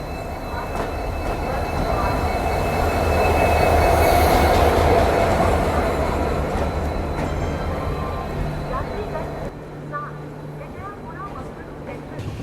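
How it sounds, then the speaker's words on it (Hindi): A passenger express hauled by a WDP 4D diesel locomotive arrives at a station on the Shiradi Ghat line, a loud steady rumble of rolling wheels and engine that gradually eases, with someone talking over it. "यहाँ पे अराइवल हो रहा है अपनी ट्रेन का और WDP 4D जो है वो लगा हुआ है"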